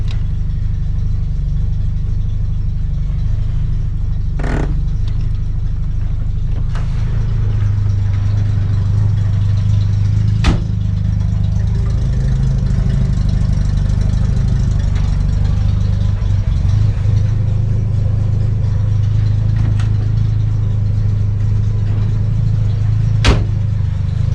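A 1963 Jaguar Mk II's engine idles steadily and loud, a deep even rumble running unbroken throughout, with a few sharp clicks or knocks over it.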